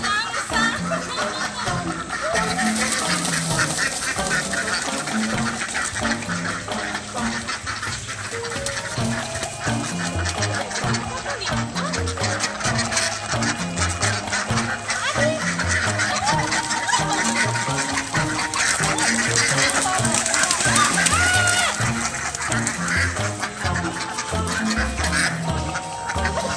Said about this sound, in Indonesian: kita melihat ada bebek-bebek di sini